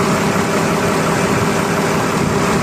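Overhauled farm tractor engine, recently given a general overhaul, runs steadily at idle with a dense, even low rumble and vibration, loud and close throughout, no voices.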